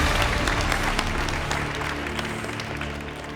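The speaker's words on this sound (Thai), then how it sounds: "ขอเสียงปรบมือดังๆให้กับคุณแจ็คครับ" Audience applause in a Thai game show studio, a steady dense wash of clapping that stays loud throughout and tapers slightly toward the end.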